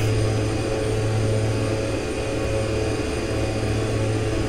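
Simulated de Havilland Twin Otter turboprop lifting off in X-Plane 11, a loud steady engine drone with humming propeller tones held throughout, no talk.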